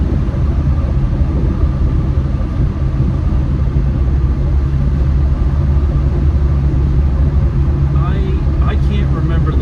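A TDI diesel-swapped Jeep Wrangler with new intercoolers and mufflers drones steadily while driving, a loud continuous low engine rumble with road noise that holds constant throughout, with a few faint higher squeaks near the end.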